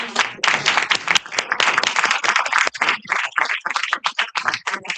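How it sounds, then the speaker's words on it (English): A hemp conference audience breaks into applause, choppy bursts of clapping with a slightly muffled, uneven texture. "let's give these guys a round of applause"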